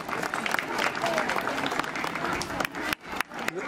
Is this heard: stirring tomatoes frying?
no